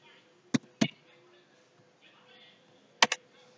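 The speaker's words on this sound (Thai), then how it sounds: "เราก็พิมพ์คำว่า TeamViewer" Keys tapped on a keyboard while downloading TeamViewer, a few isolated clicks in two short pairs, crisp and close against a quiet background.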